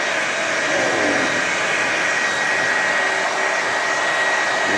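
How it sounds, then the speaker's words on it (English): A hair dryer blowing warm air onto bare feet, a loud, steady whooshing motor roar held close and constant from start to finish, with no talk. "We're going to do the hair dryer challenge on my feet."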